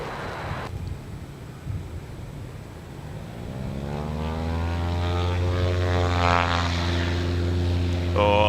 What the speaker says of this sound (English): Yeah, hear it taking off. Beautiful sound. They got that really weird kind of droney kind of